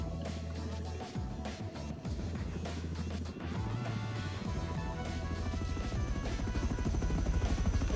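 Scrap helicopter in the video game Rust, its rotor thudding steadily and loudly throughout as it draws closer, with scattered clanks from nearby game action and no talking.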